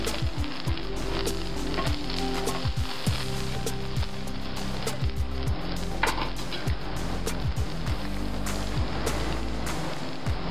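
Masala dosa sizzling on a hot pan over low heat, a steady crackling hiss with scattered pops and ticks throughout, close and continuous with no talk.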